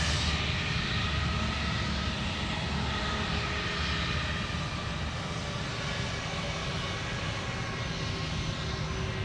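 An Airbus A380 airliner roars steadily at Sydney Airport at night, a broad, distant jet-engine rumble that holds constant throughout with no voices.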